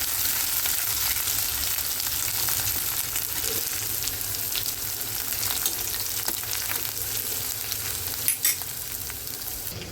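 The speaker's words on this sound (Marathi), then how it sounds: "आता हा जो ठेचा बनवला आहे ना तो टाक." Thecha, a crushed chili paste, sautéing in a pan for an Agri-style dish, with a steady broadband sizzle and frying crackle throughout and light stirring scrapes, one brief louder clatter near the end.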